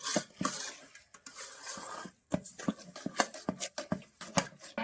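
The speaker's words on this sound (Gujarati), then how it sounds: "ફટાફટ રીતે આપણે હલાવવા માંડવાનું." A spoon scraping and clanking through a thickening jaggery mixture in a pan, quick irregular strokes close by with short pauses.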